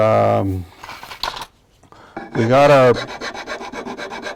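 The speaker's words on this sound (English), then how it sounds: "this is where the nut's going to go, right where I'm filing" A file rasping back and forth as it cuts the nut groove into a wooden cigar box guitar headstock, close and loud in short strokes with a pause in the middle, with speech alongside.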